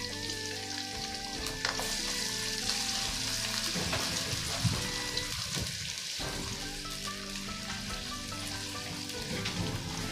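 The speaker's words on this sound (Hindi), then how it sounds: "इसके अंदर हम डालेंगे एक मीडियम साइज़ की प्याज थी, जो हमने इसको स्लाइस करके रखी हुई थी। इसको हम अच्छी तरीके से गोल्डन फ्राई करेंगे।" Sliced medium onion frying golden in hot oil, a steady, dense sizzle that crackles evenly for the whole stretch, close and fairly loud with no talking.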